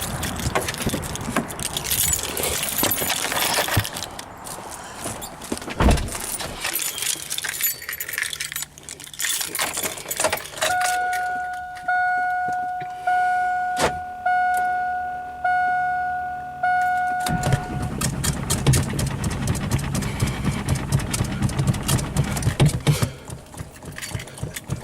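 A Duramax diesel Silverado 3500 dually with a major fuel leak, left sitting for a week, cranks in several repeated rhythmic bursts with clicks and rattles before the engine catches and rumbles into a loud running idle.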